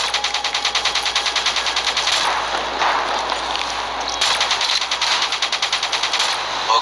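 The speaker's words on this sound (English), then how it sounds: "The minigun should help level the playing field." Rapid, sustained minigun fire from the video game Call of Duty Black Ops 3, a dense mechanical rattle of bursts running loud and continuous for several seconds with no talking.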